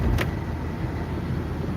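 Traffic in downtown Detroit passes as a steady, close road rumble with a brief click near the start and no voices.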